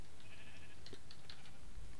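In the video game Minecraft, a sheep gives a few short bleats that are not very loud, over a constant dense background hiss.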